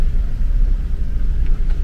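Car crossing a railway level crossing in slow traffic on a Koraput–Araku Valley road trip, heard from inside: a steady, loud, low engine and road rumble with no talking.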